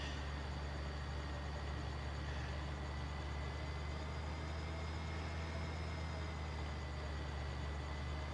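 A tractor engine in Farming Simulator 15 drones steadily and continuously, a loud low rumble with a constant hum, running alone without any talk.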